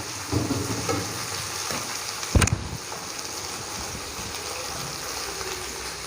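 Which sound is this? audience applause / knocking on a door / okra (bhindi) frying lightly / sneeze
okra (bhindi) frying lightly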